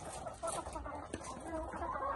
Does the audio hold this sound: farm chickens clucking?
yes